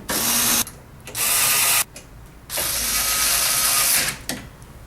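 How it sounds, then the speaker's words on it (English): Power driver running screws into a treadmill motor cover, three loud whirring bursts separated by short pauses, close up with no talking. "So we're going to go ahead and install the cover screws here."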